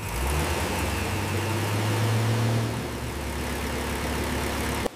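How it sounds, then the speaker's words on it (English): A Kawasaki H2R motorcycle engine runs on a factory dyno test, a loud, steady mechanical drone whose pitch dips partway through before cutting off abruptly at the end. "Each engine is dyno tested for power."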